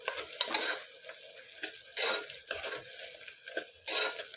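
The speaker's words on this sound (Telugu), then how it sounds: "ఇప్పుడు ఆనియన్స్ అయితే ఇట్లా మంచిగా ఫ్రై అయితే అయినాయి కదా" Onions frying in a pan for a mutton gravy curry, with a steady sizzle broken by repeated bursts of a spatula scraping and stirring against the metal pan.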